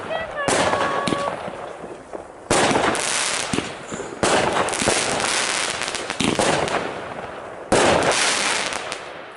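Firework rockets at a bonfire night party burst in a series of loud crackling volleys, several sharp bangs followed by sustained fizzing crackle, with voices of people nearby amid the bursts.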